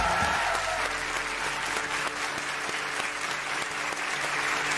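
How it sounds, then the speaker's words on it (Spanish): A studio audience at a TV talent show applauds loudly and steadily, a dense, even wash of clapping that fills the room from start to finish with no talking over it. "el aplauso es bello"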